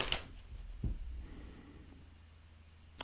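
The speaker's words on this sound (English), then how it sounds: "One more shuffle." Brief riffling tarot card shuffle near the start, followed by a soft thump and faint low background hum, fairly quiet overall.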